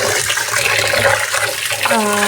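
Soaked rice for idli batter being rinsed under a running tap, water splashing and swirling steadily in a vessel close by, with a brief tonal hum near the end.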